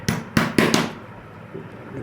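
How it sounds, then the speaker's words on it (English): Four sharp hammer taps in quick succession seat an 8 mm nut into an MDF part, the last pair closest together, followed by a quiet pause and a faint knock. "Gentle tap with the hammer,"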